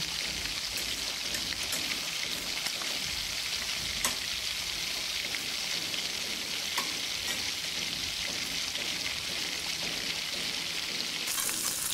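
Onions sizzling steadily in hot oil for a fish-head chachori made with katla fish, a dense continuous crackle and hiss close up, with occasional stirring scrapes and no voices.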